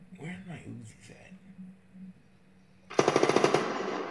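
Uzi submachine gun firing one rapid automatic burst of sharp cracks, loud and close, following a stretch of talking.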